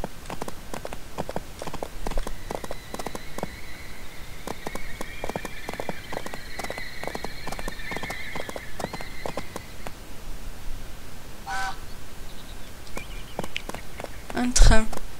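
Horse hooves clip-clopping at an even pace in the Barbie Horse Adventures PC game, running steadily for about ten seconds under a voice talking, with a brief neigh and a sharp knock near the end.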